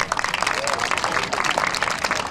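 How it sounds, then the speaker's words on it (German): Outdoor audience applause at a beach promenade festival in Cuxhaven Döse, a steady burst of many hands clapping for a couple of seconds, close and fairly loud, with faint voices mixed in. "das ist dein Applaus"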